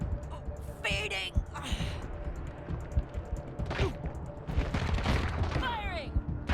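Gunfire in the video game Wasteland 3, scattered bursts and single shots amid clattering mechanical effects and whooshing tones, moderately loud and busy, with game voices in between.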